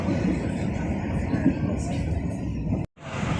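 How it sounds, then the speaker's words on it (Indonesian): Passenger train on the line to Lampung, picking up speed, heard from inside as a steady broadband rumble and rattle with a voice talking over it, cut by a brief dropout near the end. "Mulai ngebut ya kereta apinya ya teman-teman ya"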